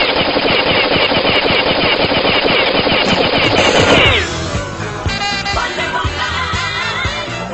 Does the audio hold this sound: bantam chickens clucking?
no